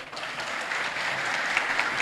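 An audience at a French-language political gathering applauds in a steady, dense wash of clapping that holds for about two seconds with a few sharper claps standing out.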